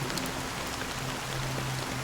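In Honkai Star Rail, rain patters continuously over the ground, a quiet dense hiss of drops throughout, with faint sustained tones underneath.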